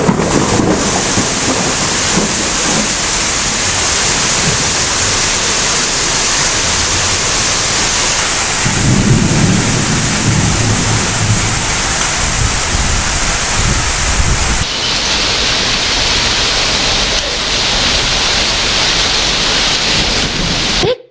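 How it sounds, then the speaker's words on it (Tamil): Heavy rain in a thunderstorm with lightning, a loud, dense, steady roar of downpour with gusty rumbling through most of the stretch and no voices. "இடிமின்னலுடன் கூடிய கனமழை 1 மணி நேரம் பெய்ததால் தாழ்வான இடங்களில் தண்ணீர் சூழ்ந்தது"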